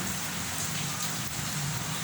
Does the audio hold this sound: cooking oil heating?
no